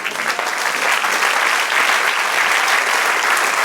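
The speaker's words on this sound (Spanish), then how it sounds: "Dale un aplauso al Señor." Worshippers in a church break into sustained applause during a sermon, dense even clapping from many people heard close and unbroken.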